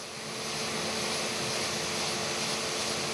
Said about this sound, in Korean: 프로펠러 돌아갑니다, 프로펠러